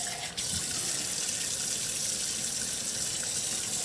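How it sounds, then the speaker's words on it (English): Dirty water being dumped out after cleaning brass with pins, a steady, continuous gushing pour that runs almost the whole time after a brief softer start. "And then dump out all your bad water."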